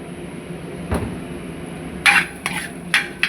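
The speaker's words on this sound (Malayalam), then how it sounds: "ചേന ഇട്ടു നല്ലപോലെ ഇളക്കി മിക്സ് ചെയ്യണം" Elephant foot yam being stirred with coconut oil in a pan, heard as a soft background sizzle with a few sharp scraping and clanking strokes of the utensil toward the end.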